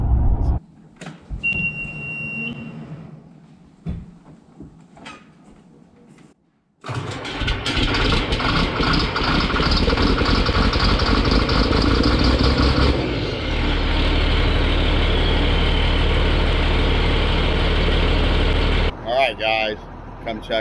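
A John Deere 4955 tractor engine cranks over and catches, then settles into a loud, steady idle up close before cutting off near the end, with only faint movement before it starts.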